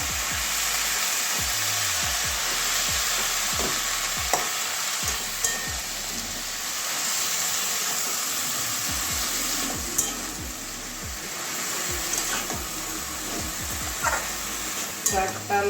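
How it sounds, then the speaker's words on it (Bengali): Washed Malabar spinach (pui shak) is stirred through spices in a pan. A steady sizzle runs throughout, with frequent soft spatula scrapes and knocks close by and no clear voices. "এবারে ধুয়ে রাখা শাকটা দিয়ে দিচ্ছি শাকটা ভালো করে মিশিয়ে নেবো"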